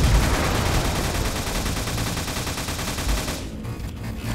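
Rapid, dense gunfire from shooting aliens in the video game Alien Destroyer, loud and continuous for about three seconds before cutting off abruptly into quieter background.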